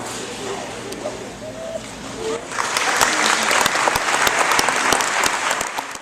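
A graduation audience bursts into applause partway through, dense steady clapping from a crowd rising after quieter murmuring, with faint bird coos at the start.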